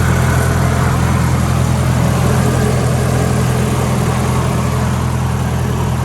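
A Nissan 240SX engine runs at a loud, steady idle up close, a constant low drone with no talk and no audible start.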